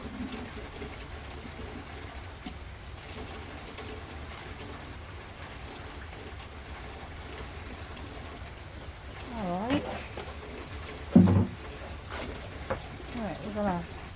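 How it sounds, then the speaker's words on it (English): Water trickles and pours over rooting sweet potato slips, a soft, close splashing under a person talking throughout, with a few louder splashes near the end. "Alright, let's water this."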